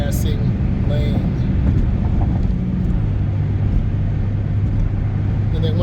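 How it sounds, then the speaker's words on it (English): A car accelerating as it moves into the left lane on the road: a continuous low rumble of engine and road noise whose pitch shifts partway through. "I'm going to change a lane to the left and accelerate through this"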